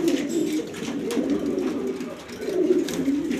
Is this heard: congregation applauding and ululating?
no